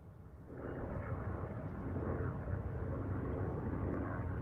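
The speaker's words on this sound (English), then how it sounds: "some aerial shots here from the drone. Not a helicopter, even though it sounds like one" Camera drone flying overhead, a steady buzzing drone with a helicopter-like whir, sustained and fairly loud throughout, rising slightly after the first half second with no voices.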